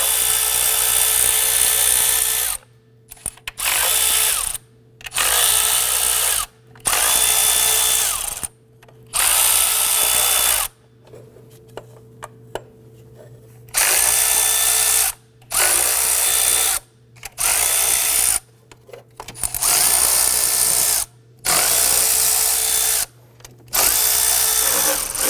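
Power tool whirring in repeated bursts while removing valve cover bolts on a 2008-2011 Ford Focus, about a dozen loud close runs of a second or two each, separated by short pauses, with no talking.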